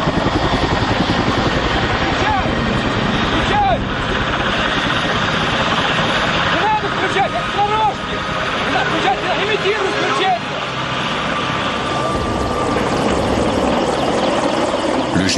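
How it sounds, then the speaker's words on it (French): Military helicopters from a fleet of eighty fly toward the burning Chernobyl reactor in 1986, their loud continuous rotor roar dense and steady, with a voice speaking and faint crowd murmur beneath. "Le général Antochkin et sa flotte de 80 hélicoptères sont envoyés de Moscou à l'assaut du brasier."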